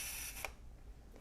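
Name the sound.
FED 3b camera shutter firing at half-second speed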